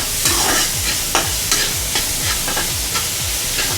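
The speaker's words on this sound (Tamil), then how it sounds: "இப்போ இந்த வெங்காயம் வந்து நல்லா பொன்முருவலாக ஃப்ரை ஆகட்டும்" Onions fry in ghee in a pan for a homemade prawn biryani, with a steady loud sizzle and repeated scraping stirs of a spoon roughly twice a second, close up and with no talking.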